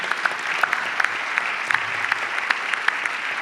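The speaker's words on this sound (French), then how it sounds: "On peut les applaudir." Audience at a round-table debate for the 2026 metropolitan elections, held at the Palais de la Mutualité, applauding. The sound is sustained, dense clapping from a crowd, steady throughout, with faint voices underneath.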